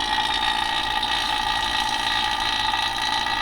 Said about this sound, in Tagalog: Masipsip ng vacuum pump ang hangin galing sa system.